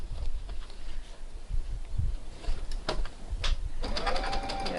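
A sewing machine stitches slowly and carefully beside a line of stay stitching on a New Look 6575 garment, heard as a soft close mechanical whir with light clicks and a faster burst near the end.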